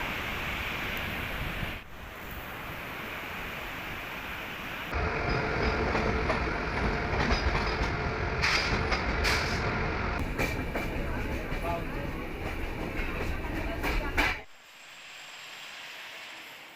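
A train on the Araku line in India rumbles past close by, a loud sustained roar with rattling wagons and some squeal before it cuts away to quieter background near the end.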